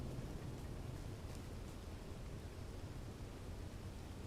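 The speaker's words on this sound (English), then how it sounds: "I feel like it's been raining for a while" Steady rain on a planet in a video game, a soft, even hiss of rainfall with a low rumbling undertone of distant thunder, continuous and fairly faint throughout with no talking.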